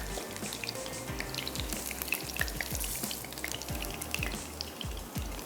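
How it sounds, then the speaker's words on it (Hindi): Chicken koftas fry in hot oil with a constant close sizzle and crackle, broken by small drips and the clatter of stirring, and no voices. "ग्रेवी में भी हमने इसको पकाना है तो एक इसका जो फ्लेवर है उसको सील करने के लिए और इसकी आउटर लेयर भी बड़ी अच्छी सी ज़बरदस्त सी फ्राई हो जाएगी"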